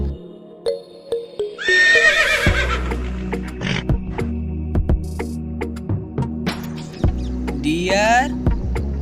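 A brown and red horse gives a loud whinnying neigh early on and a shorter one near the end, over a steady low rumble with scattered clicks and thumps, and a voice can be heard.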